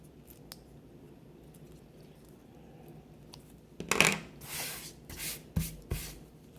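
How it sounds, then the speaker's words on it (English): Scissors snip and trim excess hot glue and stray paper from a handmade crown, a few crisp cuts close by in a quiet room. "I'm just going to take a pair of scissors and trim off"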